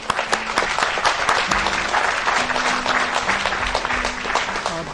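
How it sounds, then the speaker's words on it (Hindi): Audience applause at the 57th anniversary ceremony of Pakistan Television's Quetta Centre, a dense, steady roll of many hands clapping that fills the whole stretch, with a faint tonal hum running beneath it. "आपकी भरपूर तालियों में सरवर सौदाई साहब, अफजल मुराद साहब और कयूम बेदार साहब।"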